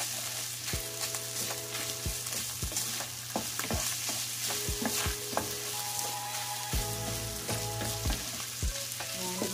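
Beef giniling menudo with tomato sizzles in a pan while being stirred, a continuous fry with intermittent clinks and scrapes of the utensil against the pan.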